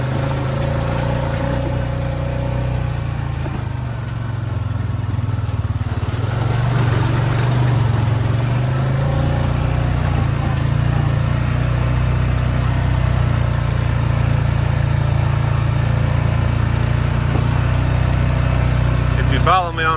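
A four-wheeler ATV engine hums steadily at a low idle-like drone for the whole stretch, close and fairly loud, with a person talking over it.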